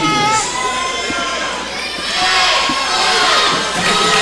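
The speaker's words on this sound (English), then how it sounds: "You can hear the crowd screaming." Basketball crowd at a Three Rivers Raiders game cheering and screaming in a loud, continuous roar with shrill high-pitched yells rising and falling, swelling again toward the end.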